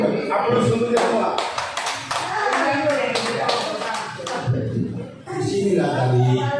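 Audience applause from a room of teachers at a training session, dense steady clapping that fills the whole stretch with a brief dip near the end, with some voices mixed in.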